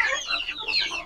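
A desi hen with low egg production and a poor appetite clucks close by, a short run of bright, rising calls with no talk over them.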